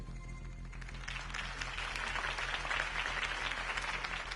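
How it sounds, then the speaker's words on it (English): A crowd's applause in the video game Noir swells after a brief quiet start, with a dense mass of clapping and cheering that stays fairly distant. "could have heard that applause"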